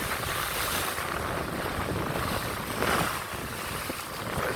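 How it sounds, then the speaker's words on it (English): Hurricane wind roaring across the microphone with heavy waves surging and drawing back along the shore, loud and continuous with a brief swell near the end. "you could feel the strength of the hurricane, but these waves are sucking and drawing"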